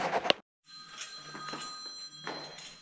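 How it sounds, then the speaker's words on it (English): Phone ringing with a steady electronic trill, faint and a little distant, after a brief thunk at the start. "My phone ringing."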